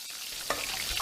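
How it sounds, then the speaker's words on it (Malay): Fish roe fries in a pan in a cartoon kitchen, a steady close crackling sizzle with small stirring clicks, short and unbroken, with no talking. "Apa yang kau goreng tu? Telur ikan."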